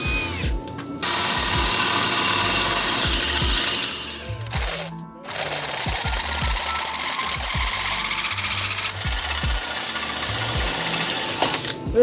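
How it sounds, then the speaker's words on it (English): A power drill whines steadily and loudly at close range, with a brief pause midway, grinding continuously as it bores a pilot hole into tough stainless steel. "Drill a little pilot hole in here. This stainless is really tough."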